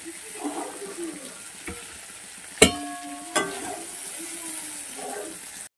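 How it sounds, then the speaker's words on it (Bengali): Shrimp fry in a pan of oil with a soft, steady sizzle, broken by two sharp metallic clanks of a utensil against the pan. "হালকা করে 30 সেকেন্ড ভেজে দিয়ে আমি চিংড়িগুলোকে তুলে নেব।"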